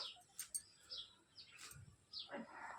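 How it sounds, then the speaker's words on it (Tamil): House sparrows chirp in short, scattered bursts, faint and somewhat distant, with quiet pauses between calls. "சிட்டுக்குருவி சத்தம் கேட்குதுங்களா"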